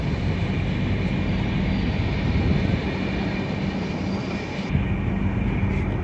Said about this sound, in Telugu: ఇప్పుడు మన ట్రైన్ పాకాల జంక్షన్కి వచ్చింది